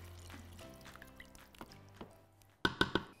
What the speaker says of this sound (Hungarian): Elkeverjük a paprikát a zsíradékban, és már fel is öntjük vízzel